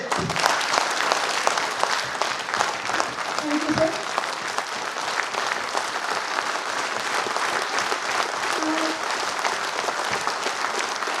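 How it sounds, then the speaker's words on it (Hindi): Sustained, dense applause from an audience at a felicitation program honoring the chairman of AINBOF, continuing steadily throughout with brief spoken thanks heard over the clapping. "Thanks for your clapping"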